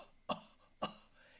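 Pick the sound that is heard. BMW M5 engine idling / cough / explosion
cough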